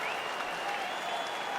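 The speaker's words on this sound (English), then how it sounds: "crowd getting excited as this fight gets underway" Crowd cheering and applauding at the start of a fight in the EA Sports UFC 4 video game, a dense continuous roar of a large arena audience, loud and steady throughout with no individual voices standing out.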